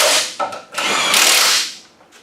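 Power tool running 14mm subframe connector bolts during an engine swap, a few loud close bursts of whirring drive with brief pauses between them.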